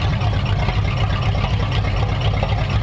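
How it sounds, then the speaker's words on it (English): A steady, low hot rod engine idle in a pre-war jalopy shop truck, with a deep, throaty exhaust rumble, continuous and fairly loud, with no talking. "So at idle, it's got a sound to it with that exhaust."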